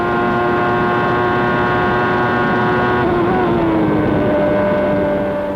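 1994 Formula 1 cars, a Ferrari and a Williams, race past with loud, steady high-pitched engine whine, the tone holding then dropping slightly as one car eases off, continuous and close throughout.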